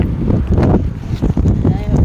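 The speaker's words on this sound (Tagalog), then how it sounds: "ang lakas ng hangin" Strong wind buffets the microphone in loud, low rumbling gusts that rise and dip over two seconds, with a voice faintly underneath, in Nanliao, Taiwan, in the late afternoon.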